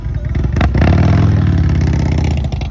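A Harley-Davidson motorcycle engine revs up loudly and close by with a deep, throbbing idle and clattering rumble, then holds a steady roar as the rider pulls away.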